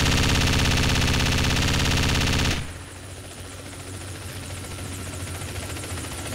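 Helicopters in the military video game Project Reality produce a loud, dense rotor roar that cuts off abruptly after about two and a half seconds. A quieter, rough background rumble follows.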